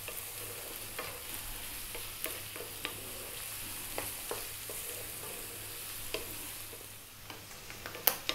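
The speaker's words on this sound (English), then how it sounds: "I'll be giving it a stir every now and then." Beef frying in a pan with a faint, steady sizzle and occasional stirring, marked by scattered soft scrapes and clicks and a couple of louder knocks near the end, no speech.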